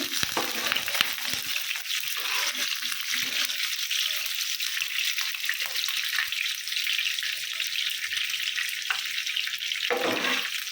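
Slices of bitter gourd fry in hot oil with a steady, close, continuous sizzle that runs unbroken for about ten seconds, with no talking.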